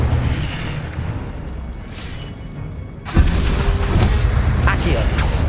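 The Incendio fire spell is cast in Hogwarts Legacy, bursting out as a sudden loud, roaring whoosh that cuts through a steady bed of game ambience and then sustains as a dense rush.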